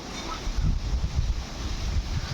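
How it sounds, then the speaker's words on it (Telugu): Wind blows through teak and guava trees in a backyard. A steady, gusty rumble buffets the microphone, with rustling hiss above it and no talk. "గాడుపు చాలా వస్తుంది"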